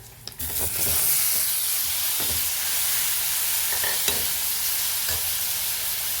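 Tomatoes go into a pan with chilli powder, turmeric and salt for a tomato buttermilk curry, setting off a loud continuous sizzle with occasional stirring scrapes and clicks.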